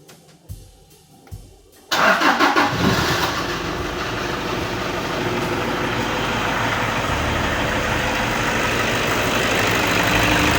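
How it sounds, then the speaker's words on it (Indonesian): A few faint clicks and taps, then a Toyota Kijang Innova engine cranks and catches, settling into a steady, fairly loud idle rumble. "Sekarang mari kita coba starter mobilnya"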